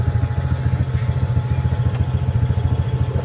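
A small wiper motor on an e-bike runs steadily with the wiper turning, giving a close, continuous low mechanical hum with a fast, even pulsing buzz and no talking.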